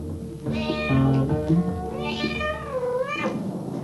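A friendly male cat kept at a city hall meows several times in a row, close and clear, with drawn-out rising and falling cries and no talking.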